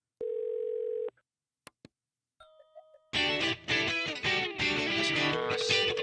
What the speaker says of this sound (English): as the phone keeps ringing, it kind of becomes this other instrument